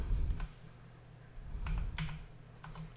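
Keys on a computer keyboard clack in short irregular bursts, moderately close, over a low steady hum, with no voices.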